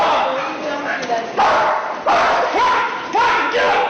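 A police K9 dog barking and yipping in short, loud, close bursts, about five or six barks with whimpers, amid shouted voices during an arrest.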